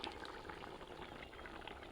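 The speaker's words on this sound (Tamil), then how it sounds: "நல்லா கொதிச்சுக்கிட்டு இருக்கு." A pot of water at a rolling boil for cooking rice for biryani bubbles and churns steadily, a faint continuous seething with no talk over it.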